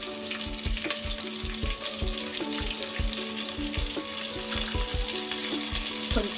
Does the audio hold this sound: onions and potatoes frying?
yes